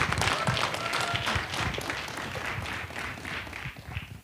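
Sustained applause from an audience at a national student business competition, steady and dense clapping for a presenting team that lasts the whole stretch without letting up.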